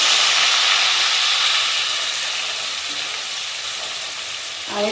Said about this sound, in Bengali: এবারে এর মধ্যে আমি দিয়ে দেবো পেস্ট করে রাখা টমেটো। সবগুলোকে আমি একসঙ্গে ভালোভাবে ভেজে নেব।